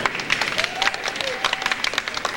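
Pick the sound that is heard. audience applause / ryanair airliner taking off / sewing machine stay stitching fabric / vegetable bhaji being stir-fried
audience applause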